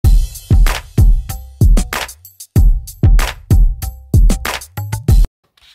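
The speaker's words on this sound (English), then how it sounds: "So the drum loop sounds like this." A simple drum loop plays back in Pro Tools, with punchy kicks and crisp snare or hi-hat hits in a steady repeating pattern, close and clean with no talk.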